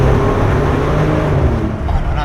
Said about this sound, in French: t'as entendu le son que ça fait là dans le tunnel? Le souffle.